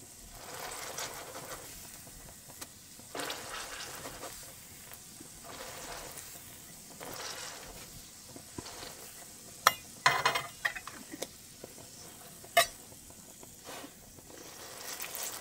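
Hotteok, a Korean sweet pancake, frying in oil in a pan, giving a steady soft sizzle with a few sharp pops and crackles, close but fairly quiet, with no voices.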